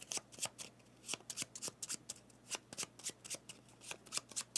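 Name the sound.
shuffling cards of the board game Obsession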